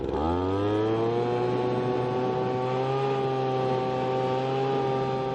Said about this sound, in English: the first thing that I'm going to do is use my blower and really blow this area out